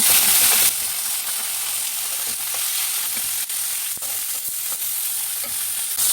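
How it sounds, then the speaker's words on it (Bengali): Katla fish heads frying in hot oil with salt and turmeric, giving a dense, even sizzle that holds steady with faint clicks and pops scattered through, and no voices. "নুন হলুদ দিয়ে মাথাগুলো ভেজে নিব"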